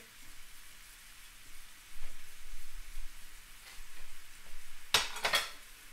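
Mince fries in a pan with a cinnamon stick, garlic, oregano and mint, giving a soft, steady sizzle while being stirred, with a brief sharp clatter of utensil against pan near the end.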